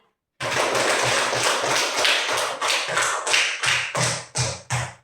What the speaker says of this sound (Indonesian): itu minta kita berikan aplaus kepada kelompok 3.